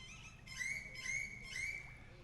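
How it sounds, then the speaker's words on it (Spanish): Birds sing outdoors in a wooded residential setting, giving three short whistled phrases at a moderate distance over quiet background hiss. "Y esto es lo que me gusta, el sonido de los pájaros aquí."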